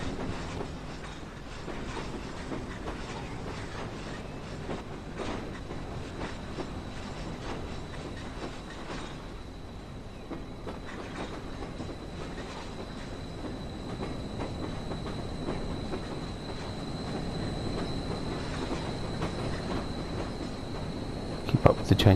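Train running on the West Somerset Railway in Train Sim World, a hilly line: steady loud rolling rumble with rhythmic wheel clatter and a faint high squeal, continuous throughout.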